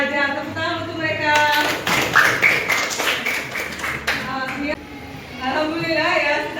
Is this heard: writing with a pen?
no